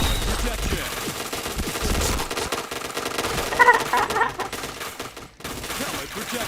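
Rapid bursts of automatic gunfire from the Point Blank first-person shooter game, dense and continuous with overlapping shots, with a voice talking faintly underneath.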